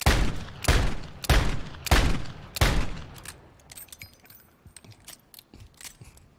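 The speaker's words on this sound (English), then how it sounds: "We'll just fire all 5 rounds." A Basilisk pistol in Modern Warfare 3 fires five heavy, booming shots at an even pace of roughly one every two-thirds of a second, each followed by a short decay, then faint metallic clinks and rattles as the firing stops.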